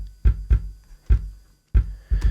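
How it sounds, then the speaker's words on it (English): Sampled kick drum from Logic Pro's built-in library, triggered in place of recorded acoustic kicks: five loud, punchy low thumps in an uneven rhythm, each with a short decay and no voices. "it's assigned a built-in Logic kick sample to it"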